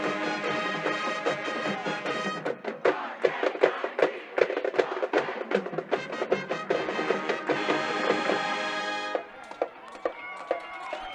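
A large football stadium crowd at a Warren G. Harding Raiders varsity game cheers and roars loudly and continuously, with a marching band's brassy music and drum hits punching through the din.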